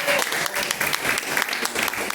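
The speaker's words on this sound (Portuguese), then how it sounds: "Palmas bem fortes para Deus, aleluia" A church congregation claps loudly and briskly in praise, dense, fast applause filling the hall without pause.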